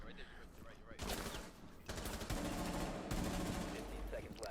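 Gunfire in Rainbow Six Siege shooting through a wall inside a small bakery: quiet bursts of rapid shots in several short volleys, close but low in level.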